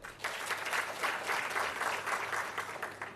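A crowd at the MNU Model SAARC Summit applauds performers from the Indian Cultural Center, the Boduberu Group and the MNU-SU Dance Group, with a dense, steady wash of clapping that holds at even loudness throughout.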